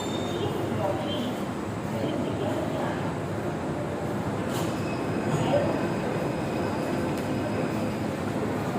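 Delhi Metro train at a Pink Line station, a steady low rumble and hum of rail cars with faint squeal, continuous and moderately loud around the platform.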